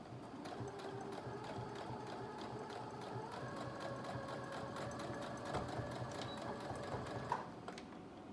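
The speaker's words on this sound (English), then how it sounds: "next I'm gonna take it to my sewing machine and I'm gonna sew around each of the four edges" A sewing machine hums and whirs steadily as it stitches denim, a continuous mechanical drone with a fast rhythmic clatter, faint and without voices.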